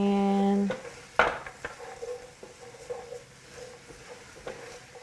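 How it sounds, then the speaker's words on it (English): Javanese fried noodles (mie goreng Jawa) stirred in a pan, with a sharp metal scrape and scattered clinks of utensil against pan over a soft, steady sizzle, following a brief tonal hum at the start. "Just stir until everything coated with flavor."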